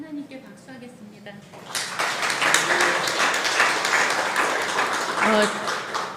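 A church congregation at Dongsan Church in Seongnam breaks into loud, sustained clapping after a speaker talks briefly, the applause filling the room to the end with a voice surfacing near the close.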